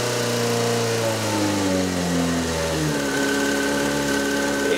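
Yamaha Fazer motorcycle engine idling after a warm-up, a steady close hum whose pitch slowly drops as the revs settle toward normal idle, with no talking.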